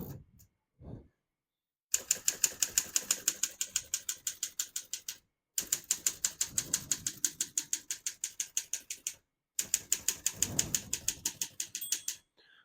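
Rapid mechanical clacking of a 1935 Underwood Universal portable manual typewriter in three long bursts, keys striking in quick steady rhythm with short pauses between, close and clear.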